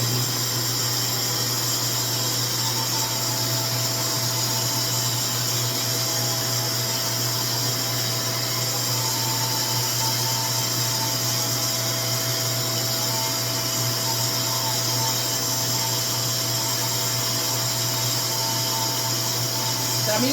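A RevAir hair dryer drying textured, coily 4C hair runs on low heat as a constant, even motorized whir with a steady low hum, unchanging throughout at close range.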